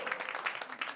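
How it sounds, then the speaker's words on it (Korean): A brief burst of group hand clapping at a prayer gathering, quick and moderately loud, with no talk over it. "박수."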